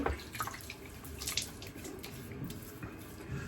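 Tap water runs steadily into a sink while a face is wetted before a shave with a badger brush, a soft continuous splashing and trickling with small surges throughout.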